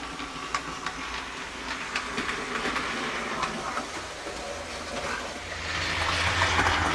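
A KR Models SR Leader 0-6-0+0-6-0T model locomotive runs around its track over point work, a steady low rumble with light, rhythmic clicking of wheels, fairly quiet and even, swelling slightly near the end.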